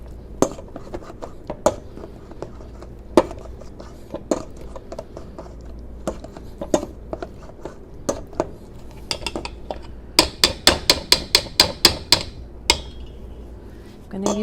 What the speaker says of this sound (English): it's good to make round motions like this with the masher, so to make sure everything is nice and smooth